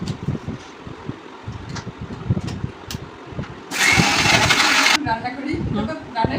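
An electric blender grinds spices for nihari, a loud whirring burst lasting about a second, heard after and alongside people chatting in the kitchen.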